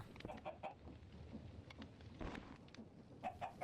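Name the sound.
chicken clucking in a video game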